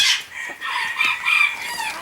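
Hamburg chickens cluck and a rooster crows nearby, loud and close, with overlapping calls over about two seconds.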